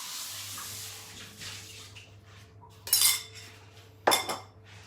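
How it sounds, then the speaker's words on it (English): A bowl is rinsed out at a kitchen sink, with running water splashing, then two sharp clinks and rattles of the dish against the basin, close by and without talk. "let me just wash that bowl out because we'll use that again"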